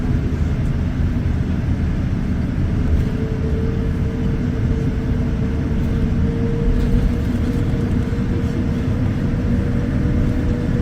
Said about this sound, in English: We're looking at the Rolls-Royce Trent 1000 engine.